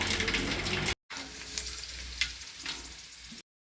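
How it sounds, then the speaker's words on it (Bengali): Black mustard seeds and dried chillies sizzle and crackle in hot oil for a mango pickle, a loud close frying hiss broken by two brief gaps. "এবার দিতে হবে কালো সর্ষে ফোড়ন এক খাবল দিয়ে দেবেন"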